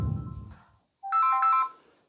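An incoming-call ringtone sounds on a phone during a math lesson. A low rumble fades, then a bright electronic melody plays loudly and close for under a second, ending in a short high blip, with no talking.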